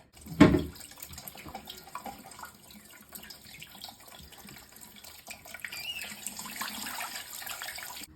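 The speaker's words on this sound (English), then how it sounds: "we're going to turn the water on" Water runs steadily into an American Standard toilet tank after a brief knock, a soft continuous hiss and trickle, close by with no talking.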